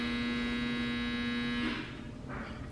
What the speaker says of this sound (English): my dryer again.